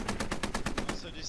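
Video game gunfire rips out as one rapid automatic burst of about nine evenly spaced shots, loud and close, then cuts off abruptly.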